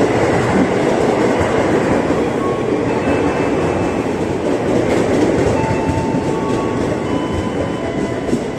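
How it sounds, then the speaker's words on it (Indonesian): An Indonesian KRL commuter train bound for Bogor rolls into a crowded station platform during evening rush hour, with a loud, close, steady rumble and clatter of wheels and faint squeals over the whole stretch. "Akhirnya tujuan Bogor datang juga."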